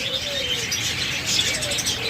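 Pet lovebirds, Java sparrows and budgerigars kept for sale fill the air with dense, continuous high chirping and twittering, loud and close, with a few clearer calls standing out.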